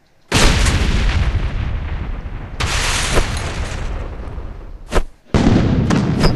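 Grenade blasts in the dinosaur-hunting video game Real Dino Deadly Hunt, loud booming explosions in several long roaring bursts separated by short gaps, with no voices.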